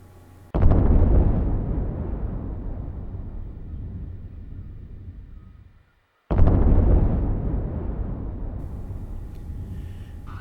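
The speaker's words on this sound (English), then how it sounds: "an explosive fog signal, which, in thick and foggy weather, will give 2 explosions in quick succession" A lighthouse explosive fog signal fires two loud booming explosions, each hitting suddenly and decaying into a long rumbling echo, separated by a brief silence.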